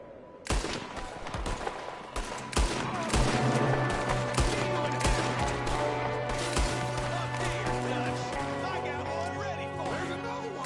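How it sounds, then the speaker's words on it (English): Gunfire in a video game from a shooter firing out of a window, a series of sharp separate shots early on, then a sustained tonal musical score with scattered impacts beneath it. "There's another one shooting from the window."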